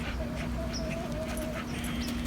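A dog whimpers in a thin, drawn-out whine over steady background noise, fairly quiet and close.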